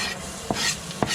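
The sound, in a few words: garlic frying and stirring in a pan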